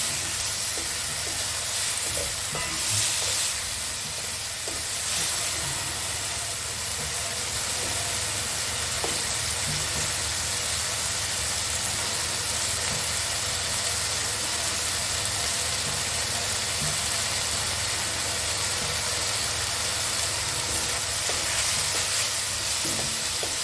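Spinach (palong shak) stirred and fried in spiced oil in a pan, a continuous hissing sizzle with occasional scraping stir sounds, steady and close with no talking.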